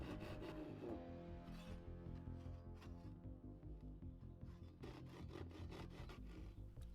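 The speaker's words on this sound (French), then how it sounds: "Pour avoir une coupe bien propre, je vais terminer avec la scie japonaise les quelques centimètres restants." A Japanese hand saw finishes the last few centimetres of a cut through a wooden shelf board, giving steady rasping strokes over a constant tonal background.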